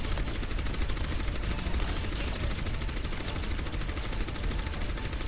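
Rapid automatic gunfire from a turret in the game Overwatch, a dense continuous burst of shots that stays loud and steady throughout.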